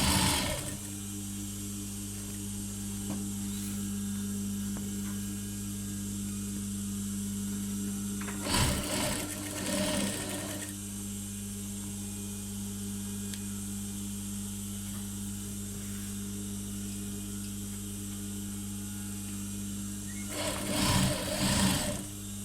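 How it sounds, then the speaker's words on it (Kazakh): A sewing machine stitches a ribbon onto a curtain, a steady whirring hum with rapid needle rhythm running for long stretches, interrupted by brief louder clattering bursts, no voices heard. "Енді мына лентаны тігетін боламыз."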